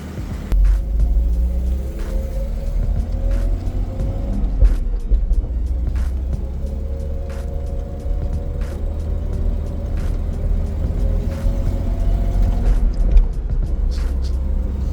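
A Nissan 280ZX cruising slowly through a residential neighborhood, its engine a low steady rumble heard from inside the cabin, with faint clicks and small bumps over the road.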